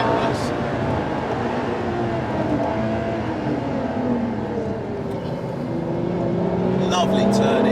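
A Ferrari LaFerrari, a 950bhp hybrid supercar, driven on a track, its engine revving hard through a downshift from fourth to third gear, the pitch rising loud and close inside the cabin.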